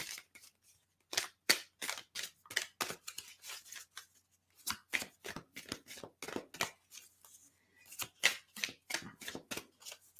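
Oracle cards are shuffled by hand in repeated crisp, riffling bursts, close and clear, with short pauses between the rounds.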